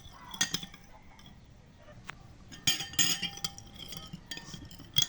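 A utensil stirs a mixture in a dish while preparing a sweet potato leaf salad, giving sparse clinks and taps against the dish with quiet scraping in between, close and fairly faint with no talk.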